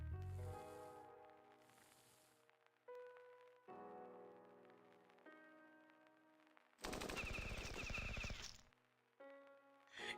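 A heavy unit in the game Battle Nations fires its gun in a dense, rapid burst, set between stretches of soft tonal game music and chimes.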